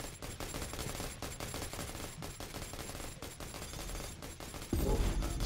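Gunfire from the video game Predator: Hunting Grounds loops without pause during an audio glitch, a dense and steady fusillade of rapid shots with a louder, heavier burst near the end.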